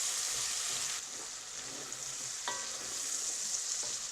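Small wild leeks and bacon sauteing in a pan, a soft continuous sizzle with occasional scraping taps as they are stirred, fairly quiet and close, with no talking.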